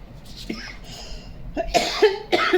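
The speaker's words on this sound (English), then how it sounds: "Sorry, I've got a cough." A person gives several sharp, throaty coughs in quick bursts, close and moderately loud, breaking up a classroom lesson on civics.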